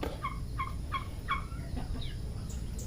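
A farm turkey in Bohol gobbles in a quick run of four rippling calls, then a couple of softer trailing notes, close and clear over a constant low hum.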